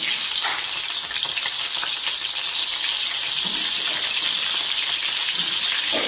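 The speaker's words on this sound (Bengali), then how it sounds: "এটাতে আমি এখন কাঁকড়াগুলো একটু ভেজে নেব" Large sea crabs fry in hot mustard oil with a loud, dense, hissing sizzle that holds steady throughout and sounds like rushing water. A few soft knocks come through faintly underneath.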